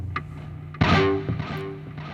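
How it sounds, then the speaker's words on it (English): A distorted electric guitar lead rings out with a bright bend and sustained notes, washed in echoing delay and reverb that trail after each phrase. "a lot of delay, a lot of reverb, a lot of compression"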